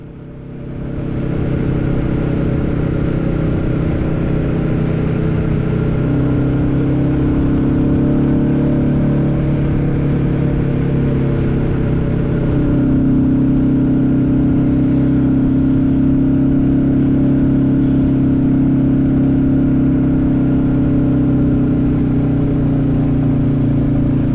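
A Royal Enfield motorcycle engine pulls hard up a big uphill climb, its steady loud drone shifting pitch as revs change, running continuously and close with no talk over it.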